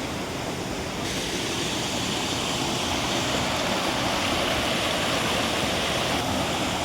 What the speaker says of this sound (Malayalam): നല്ലൊരു കൊച്ചു വെള്ളച്ചാട്ടമാണ് നമ്മളിപ്പോൾ ഇവിടെ കാണുന്നത്